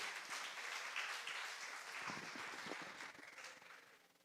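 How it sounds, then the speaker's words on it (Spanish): Congregation applauding during a church service in Monterrey, steady dense clapping held at an even level for a few seconds before easing off slightly at the end. "Dele una ofrenda de palmas al Rey por eso"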